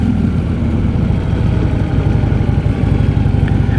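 A 2015 Harley-Davidson Street Glide Standard motorcycle on a test ride gives a steady, loud low engine rumble with a continuous throbbing drone and wind roar throughout, with no voices.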